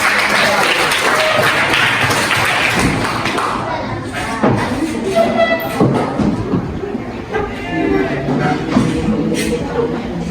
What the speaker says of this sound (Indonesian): Kasih tepuk tangan ke bapak